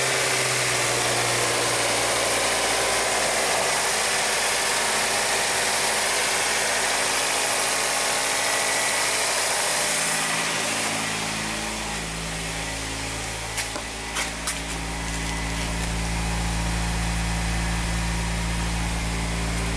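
A Hyundai car engine running rich with a faulty mass airflow sensor idles close by in a steady low rumble, its tone shifting and surging partway through, with faint clicks and no talking.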